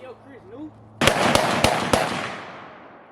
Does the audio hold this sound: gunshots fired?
yes